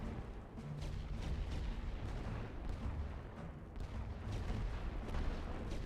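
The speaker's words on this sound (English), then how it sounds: "Gotta launch 3 artillery attacks against this mortar to take it out." A World War I artillery barrage in the video game The Great War: Western Front pounds a mortar position. Dense, continuous rumbling and crackling impacts stay fairly distant and subdued throughout.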